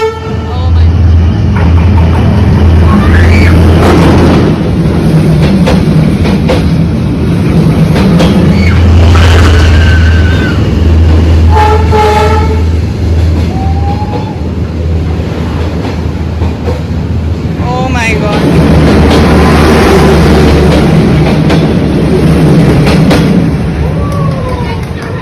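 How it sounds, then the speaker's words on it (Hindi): A train rolls slowly through the narrow Hanoi Train Street, a loud, sustained rumble of wheels and carriages with several horn toots, while onlookers chatter and exclaim nearby. "और ये आ गई ट्रेन।"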